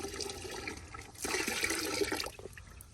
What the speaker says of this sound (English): So I'm gonna use some of that water, pour it in there.